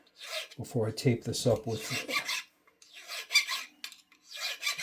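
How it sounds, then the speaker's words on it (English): A cloth wipes down a guitar fretboard during a fret job, giving soft rubbing strokes that come in short bursts close to the mic, with someone talking over the wiping. "I'll wipe this down"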